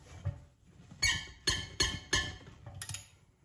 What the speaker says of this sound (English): You heard that squeak. It almost sounds like O-ring squeak.